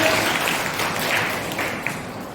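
Children at a Brahma Kumaris summer camp applaud themselves loudly after singing, a thick, continuous burst of clapping with no clear pauses.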